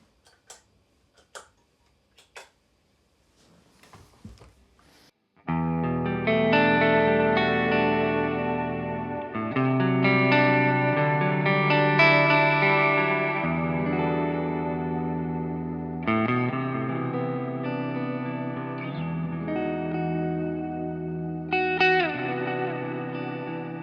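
A few sparse, dry plucked notes, then lush sustained electric guitar chords through Big Sky reverb and Dark Sun delay pedals, swelling and trailing with long shimmering echoes.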